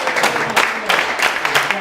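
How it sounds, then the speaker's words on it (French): Audience applause at an economic partners' club general assembly evening, a loud, close wash of clapping from a crowd in a hall, pulsing slightly and continuing across the whole moment. "on peut l'applaudir"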